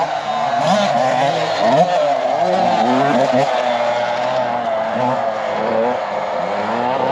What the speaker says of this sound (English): Kids doing laps on dirt bikes.